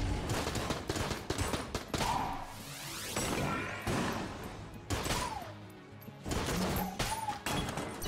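Rapid gunfire from the Mine Cutter in Enter the Gungeon, bursts of crunchy shots and impacts layered with game music and effects, loud and busy throughout with brief lulls.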